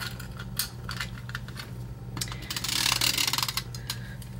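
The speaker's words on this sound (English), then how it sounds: "use my tape runner" A tape runner lays adhesive onto a card for a framing piece cut at 4 by 5 1/4 inches, making dry, ratcheting, crackly bursts that swell into a louder continuous rasp, with no voices.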